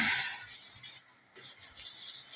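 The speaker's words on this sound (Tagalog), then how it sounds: "Ito ang gamit ko, liha." Steady rasping strokes of sandpaper rubbing back and forth while cleaning a bathroom, close up, with a brief pause midway before the scraping resumes.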